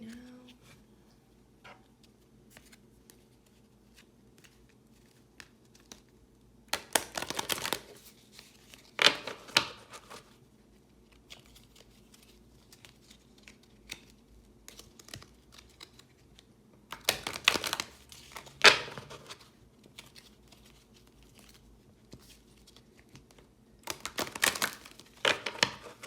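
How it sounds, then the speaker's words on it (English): A deck of tarot cards being shuffled by hand in a quiet room, with three separate bursts of riffling and shuffling spread through a long stretch, faint low rustles and clicks between them, and no voice. "I'm going to shuffle the deck right now."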